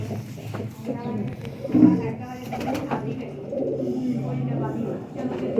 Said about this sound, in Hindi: अब ये कसूरी कबूतर